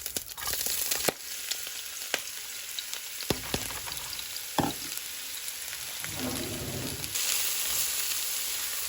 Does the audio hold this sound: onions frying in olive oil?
yes